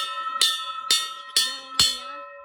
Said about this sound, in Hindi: यहाँ पर बजाती हूँ मैं घंटी